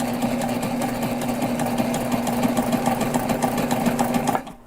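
Close and steady, a sewing machine stitches a backpack in one continuous run of fast, even needle chatter over a low motor hum, stopping abruptly at the end.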